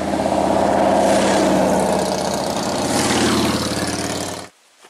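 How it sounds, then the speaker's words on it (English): Motorbikes roar past on a road crossing near a wooded trail, a loud sustained engine drone that swells and holds close before cutting off abruptly near the end. "sounds like motorbikes coming."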